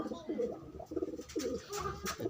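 Young racing pigeons cooing up close, short low burbling coos repeating in bursts with a faint voice murmuring in the background.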